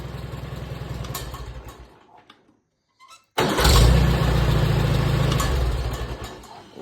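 An International Harvester Farmall 230 tractor engine runs, dies out into near silence, then cranks back up loudly and settles into a strong steady idle close by.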